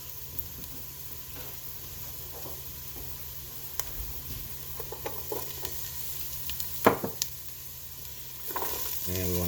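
Chicken soup ingredients sizzle softly in a pot, a constant frying hiss broken by scattered scrapes and clinks as they are stirred around, quiet and close.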